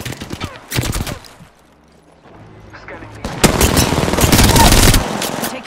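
Bursts of automatic gunfire in Apex Legends, a short volley near the start and then a long sustained stretch of rapid fire in the second half, loud and close, with brief game voice callouts in between.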